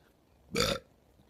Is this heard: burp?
yes